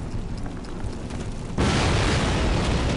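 Grenade blast in the Call of Duty video game, a single loud boom erupting mid-clip after a steady rumble of background battle noise, then sustaining as a dense roar with no talk.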